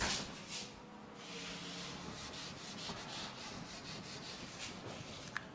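Chalk or marker writing being rubbed off a board during a trigonometry maths lesson, a run of quiet, repeated scrubbing strokes with soft hissy friction, close by and without talk.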